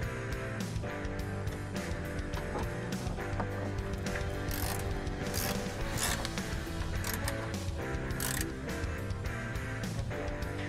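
A ratchet wrench with a 12 mm socket tightens seat plate bolts on a Kawasaki KRX 1000, making repeated rapid clicking ratchet strokes, close and steady, with no voices.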